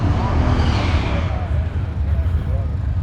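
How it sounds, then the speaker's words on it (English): B stock automatic race car engine in a Monte Carlo at a Beech Bend stock car race, a loud close rumbling roar that swells and then eases off over a few seconds. "This is a B stock automatic, which is what we used to race back in the 80s and 90s with the Monte Carlo."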